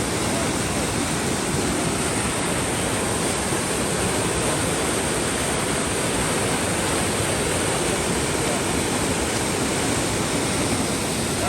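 A river in flood pours as a loud, steady, dense roar of rushing water with no letup.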